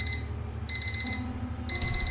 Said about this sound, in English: Oh no! That's the alarm clock!